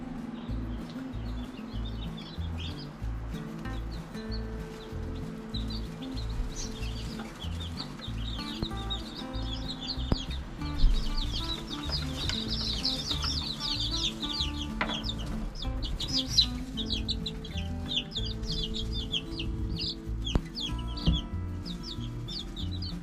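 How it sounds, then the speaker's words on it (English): Newly hatched chicks inside an incubator, part of a batch of about 40 hatched in winter, peep and chirp continuously in a dense, steady chorus, with occasional louder cheeps rising above the crowd. "Alright, we have 37 chicks here"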